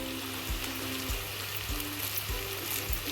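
Curry leaves frying in hot oil, a steady close sizzle with faint crackles and a low hum underneath, continuous for a few seconds with no talking.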